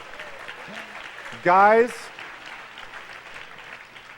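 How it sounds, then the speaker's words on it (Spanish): A short burst of polite audience clapping, about half a second long, at a church service after a joke, with someone talking before and after it. "I love courtesy claps, by the way."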